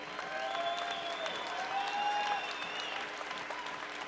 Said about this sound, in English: one more round of applause for a great fight